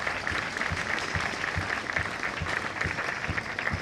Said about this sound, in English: Let us clap for him at this time. Round of applause.